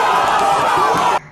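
A large outdoor crowd greets a presidential candidate with a dense, loud roar of cheering and shouting voices that continues without a break and then cuts off abruptly.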